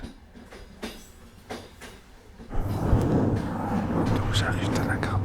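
Train ride ambience: sparse clicks and knocks at first, then a louder steady rumble and rattle of a moving rail car, with people talking in the background.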